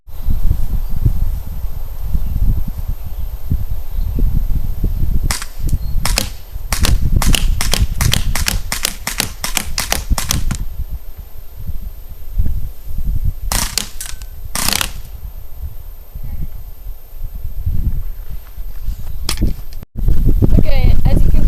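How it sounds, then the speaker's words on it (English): A KWA Mac11 airsoft submachine gun fires crisp semi-auto shots followed by short full-auto bursts at targets outdoors, sharp clicky cracks in quick clusters, with a person speaking in between. "Now I'll do 5 shots on semi, and then 1 burst on full auto on each of the targets."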